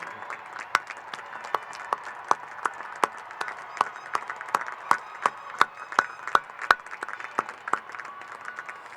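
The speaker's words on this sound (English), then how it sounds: "Please join me in a round of applause for all of them." Sparse, scattered applause rings out at a university commencement ceremony for a graduating class, the individual hand claps distinct and irregular, crisp and moderately near, with no voices over them.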